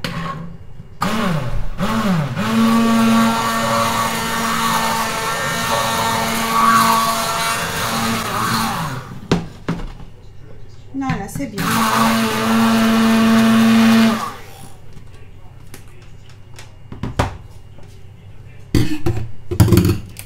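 An immersion blender whirs loudly while pureeing a batch of mashed potato purée, running in two long bursts of several seconds each with pitch shifts as it works, separated by short pauses and clunks.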